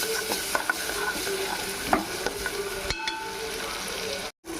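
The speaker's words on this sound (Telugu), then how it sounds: "ఇదిగో ఒక్కొక్కసారి గరిటె పెట్టి తిప్పుకుందాం" A ladle stirs tomatoes with turmeric frying in a pan for potato egg kurma, scraping and clinking at irregular intervals over a steady sizzle, with a short silent break near the end.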